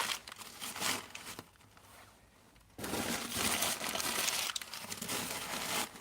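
Newspaper folded and crumpled by hand while laying a wood burner fire, giving close, loud crinkling and rustling in bursts, with a quieter pause in the middle before the paper noise resumes steadily.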